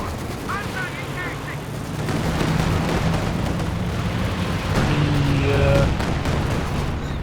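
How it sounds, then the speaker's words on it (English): Distant Katyusha rocket barrage in Company of Heroes 2, a continuous rumbling roar of launches and impacts under battlefield noise, swelling midway and staying steady, with a voice talking over it. "Far off with that Katyusha barrage"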